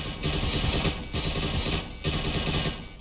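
Tanks in an online tank-battle game fire on an artillery vehicle, giving a dense, continuous loud barrage of rapid shots and booms that keeps running with brief dips, with no talking.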